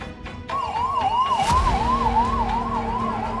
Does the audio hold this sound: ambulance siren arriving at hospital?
yes